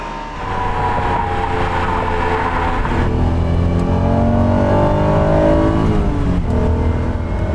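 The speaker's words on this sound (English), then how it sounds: "for some reason that car just kind of begs to be revved out" A 1992 Acura NSX sports car engine revs up and climbs through the gears, a loud rising whine and growl that builds steadily with no talking.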